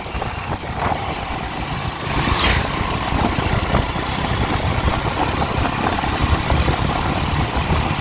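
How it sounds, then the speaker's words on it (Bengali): A motorcycle cruises at about 80 km/h on the road from Kulpi toward Diamond Harbour, its engine drone buried in loud, continuous wind rush and road noise, with no speech. "বাইক তো এবারে আশি ছুঁয়ে দিলাম"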